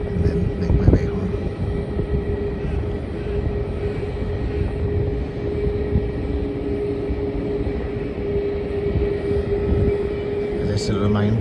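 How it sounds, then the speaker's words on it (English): Cathay Pacific airliner taking off at Melbourne Airport, a steady broad jet-engine roar holding at a fairly even loudness throughout, distant-to-moderate, with a sustained low tonal hum and faint background voices. "After the Cathay Pacific flight takes off"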